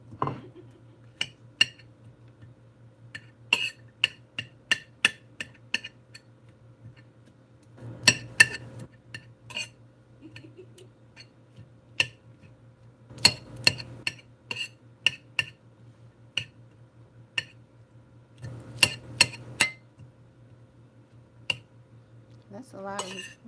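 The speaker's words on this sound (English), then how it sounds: "I'm just cutting it up right here on top of the onions and the celery" A knife cutting meat on a plate or board on top of onions and celery, heard as sparse clinks and taps of metal against dishware, irregular and close, over a low steady hum.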